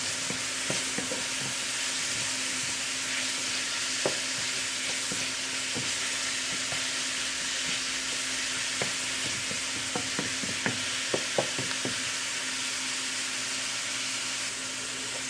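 Nigerian fried rice with shrimp fries in a pan, a constant dense sizzle punctuated by scattered sharp pops and crackles, close and steady without any voices.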